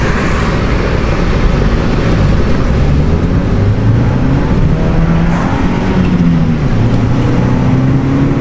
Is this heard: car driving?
yes